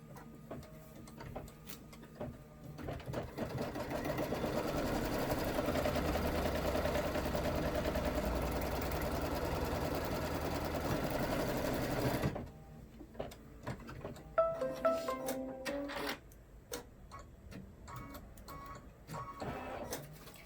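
A sewing machine stitching fabric pieces together for a party hat, its motor running in a steady, close mechanical whir for about ten seconds, then stopping, followed by quieter handling clicks and rustles.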